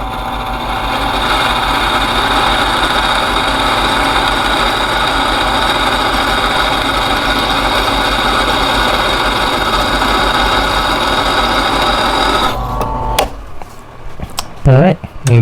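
Drilling two holes about a quarter inch deep on a Vevor 8x14 mini lathe while fitting an M51E DRO, a steady machine whir running close and loud for about twelve seconds before stopping, followed by a few brief knocks and clatters.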